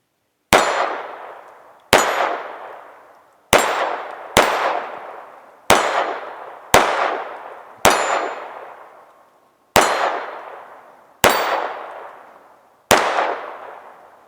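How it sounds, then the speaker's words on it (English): Walther P22 pistol fired at a range about 10 yards from the target, ten sharp, loud cracks spaced roughly one to two seconds apart, each ringing out with a metallic clang and decaying echo. "I'm out here on the range getting ready to shoot the Walther P22."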